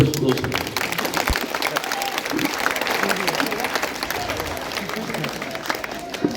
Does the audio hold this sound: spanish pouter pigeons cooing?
no